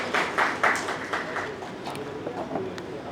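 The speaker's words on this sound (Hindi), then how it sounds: "तो एक बार जोरदार तालियां हो जाए हमारे अवार्डीज के लिए।" An audience at the UP Ratan Samman 2024 award ceremony claps for the awardees, starting as a few strong bursts and then thinning into lighter, scattered claps within a reverberant hall.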